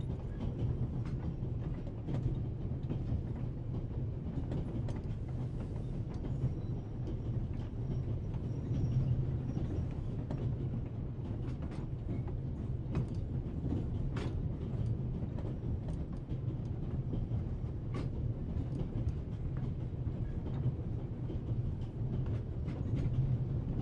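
A train rolls steadily along the rails, a continuous low rumble with faint mechanical clatter and scattered clicks, carrying on alone without any voices throughout.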